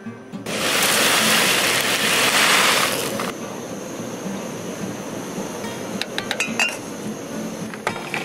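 Camping dishes and a spoon clink and rattle close by, opening with a loud rushing, splashing burst for a few seconds before quieter scattered metallic chinks and taps follow.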